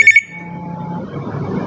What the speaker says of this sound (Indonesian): Bunyinya kayak telepon rumah.